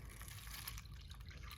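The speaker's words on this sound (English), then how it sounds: "some water in each bowl. I'm going to fill it maybe 1/4 to about 1/3 of the way" Room-temperature water poured into bowls to mix paint for a wood flower centerpiece, a steady faint trickle and splash that runs on without a break, with no voices.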